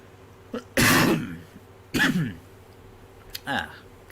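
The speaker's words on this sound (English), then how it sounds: "you will hear the occasional cough if I'm not fast enough to mute it in time" A sick person clears their throat and coughs in two loud, harsh bursts close to the microphone, followed by a softer short cough, with a faint click in between.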